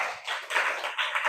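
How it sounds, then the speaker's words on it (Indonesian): A classroom of 7B students claps together, producing a dense, continuous patter of hand claps in bursts over about a second, fairly close and without talk. "Tepuk tangan buat 7B dong"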